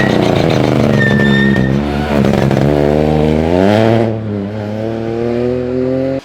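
A rally car drives a night stage, its engine close and loud, revving up and down through the gears with rising and falling pitch before easing off near the end.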